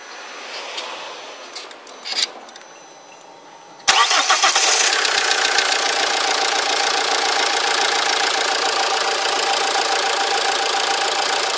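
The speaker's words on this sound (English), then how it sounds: "Start the vehicle" A 1.9 JTD diesel car engine cranks and catches with a sudden loud start, then settles into a steady, close idle with a slight knocking rhythm.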